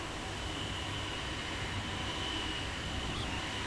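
A train in Train Sim World 3 running at around 300 km/h, giving a steady, dense rumble and rush with a faint tonal whine held throughout, loud and unbroken.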